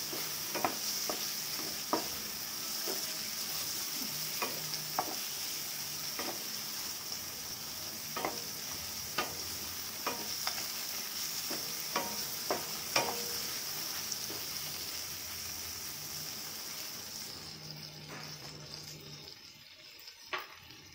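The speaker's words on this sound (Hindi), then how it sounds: "चिकन को थोड़ा सा फ्राई कर लेती हूँ" Chicken seasoned with salt and turmeric fries in a pan with a steady hiss, broken by frequent sharp spatula taps and scrapes, before the sizzle cuts off near the end.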